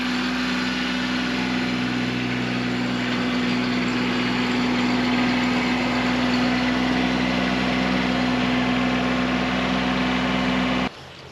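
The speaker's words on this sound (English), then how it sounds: "So we're gonna get the tractor fired up, bring that over here, clean out the pen" A tractor engine runs steadily on a farm by a pig pen, a loud, close, continuous idling drone with a strong low hum that holds evenly before cutting off abruptly at the end.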